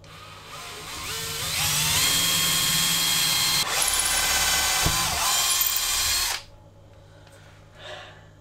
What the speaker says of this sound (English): So next thing is to drill these